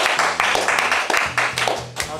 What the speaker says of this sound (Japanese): 今回拍手がね、響き渡ってますけども